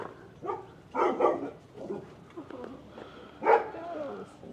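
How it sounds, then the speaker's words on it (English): A pack of dogs barks in short scattered bursts at the ruins of an Aztec war god temple in Malinalco, Mexico, heard at moderate distance and fairly soft. "Oh my goodness, there's a whole bunch of dogs."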